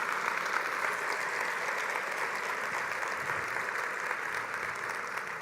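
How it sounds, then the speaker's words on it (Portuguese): A church congregation applauding the Lord, a continuous even wash of clapping heard at moderate distance and fairly faint, with no talking over it. "Você pode aplaudir ao Senhor."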